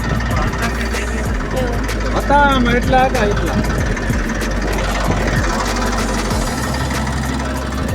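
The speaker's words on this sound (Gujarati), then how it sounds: "ટ્રેક્ટર મેસી છે।" A Massey tractor engine runs steadily in a field during wheat sowing, a continuous mid-pitched rumble with a knocking edge that lasts throughout, with voices talking over it.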